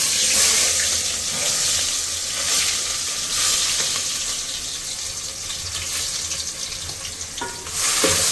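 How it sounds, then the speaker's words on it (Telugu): Onions frying in smoking-hot oil for biryani, a loud dense hiss and crackle that holds steady throughout, close by and uninterrupted, with no speech. "ఆయిల్ అయితే వేడైపోయింది, పొగలు కూడా వస్తున్నాయి అనమాట. సో ఆనియన్స్ వేసేద్దాం."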